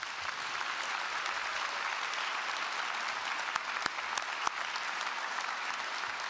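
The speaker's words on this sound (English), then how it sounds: "can I ask you to please give our graduating class today a big round of applause" An even, continuous wash of applause from a university graduation audience honoring the graduating class. It is heard at a moderate distance and holds steady throughout with no voices over it.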